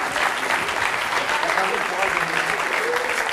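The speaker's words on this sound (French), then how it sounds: "on peut l'applaudir très fort" Studio audience on the French talk show C'est mon choix applauding a departing guest, a dense steady wash of clapping filling the whole moment at even loudness.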